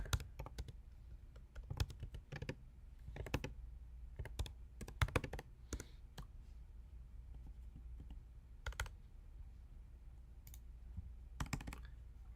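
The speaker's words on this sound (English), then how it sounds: "then I would just type in whatever my text is" Quiet, irregular keystrokes tapped out on a computer keyboard while entering text, bursts of clicks separated by short pauses, close and fairly soft.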